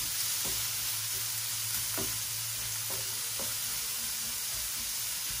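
Ingredients for an orecchiette pasta sauce sizzle steadily while browning in a pan, a close, continuous frying hiss with a few soft stirring scrapes and no talking.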